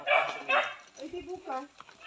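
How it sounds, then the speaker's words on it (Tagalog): A dog barks several times in a short close burst, the sharp yaps opening the moment before people start talking over the rest. "ang ingay ng aso"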